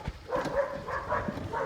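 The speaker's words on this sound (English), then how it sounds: "We got some happy puppies in the background." Puppies yip and bark in the background of a workshop while a dent is repaired on a Tesla Model S 100 decklid, giving a few short, scattered, moderately distant barks.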